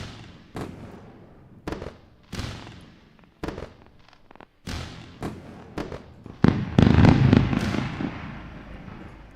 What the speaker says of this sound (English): This is definitely deserving a round of fireworks.